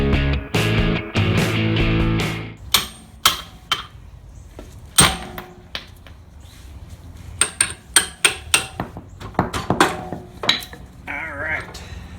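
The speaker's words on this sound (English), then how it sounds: "I'm going to put it down on the metal part and try to hammer it through." Sharp metal-on-metal hammer strikes ring out in irregular bursts, some single and some in quick runs, close and loud, with brief scraping between blows, as a suspension bushing is driven out of a Nissan 240sx (S14).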